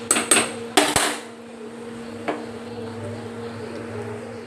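A metal spoon clatters and scrapes in a pan while sev galka tomato curry is mixed: a few sharp clinks up front, then a faint stir under a low steady hum.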